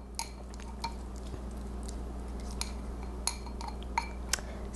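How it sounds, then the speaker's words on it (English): Yogurt and pineapple being stirred together in a dish: scattered light clinks and scrapes of a utensil against the dish, with a steady low hum underneath and no talk. "Stir this up real good, making sure that you get the yogurt and the pineapple mixed in."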